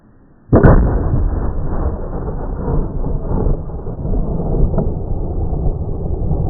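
A single loud boom from a Pedersoli 1886 lever-action rifle firing 300-grain loads, a sharp onset followed by a long rumbling roll that fills the rest of the clip with no talk.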